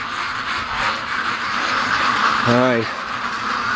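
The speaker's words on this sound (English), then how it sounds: "I can hear a herd of ducks coming" Ducks on a free-range duck farm give a short burst of quacking partway through, nearby outdoors over steady wind-like background noise, with a brief spoken word from a person.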